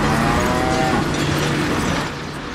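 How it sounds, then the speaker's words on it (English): A cow moos loudly in the Deadpool video game, one drawn-out low call with a steady tone over game background noise, fading slightly toward the end. "What? A cow?"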